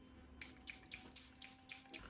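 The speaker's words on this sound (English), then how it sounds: "I'm gonna spray my face one more time" Facial setting spray misted onto a face during a makeup routine, a rapid series of about eight short, close hissing spritzes in an irregular rhythm, quiet and alone.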